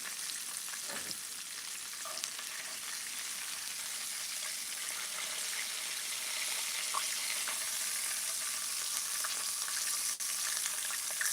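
Cooked potatoes frying on a griddle over a fire, a steady close broadband sizzle that holds evenly throughout with faint crackles and small pops scattered on top, no voices.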